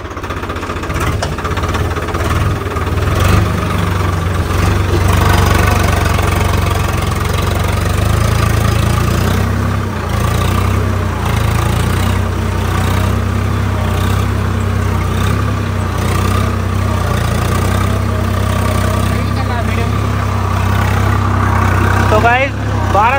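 A Swaraj 855 FE tractor engine runs steadily while pulling a 9-tine cultivator through a field, a loud continuous mid-pitched drone with some knocking texture throughout.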